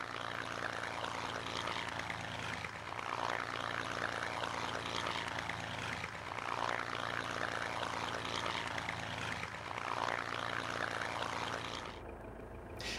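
A P-51 Mustang's propeller-driven piston aircraft engine drones steadily and loudly for several seconds, a continuous rough roar with slight pulsing, cutting off abruptly near the end.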